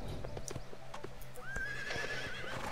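A horse in the Wii game Go Vacation trots with rapid clip-clop hoofbeats, then lets out a long rising whinny, all fairly quiet and unaccompanied by voices.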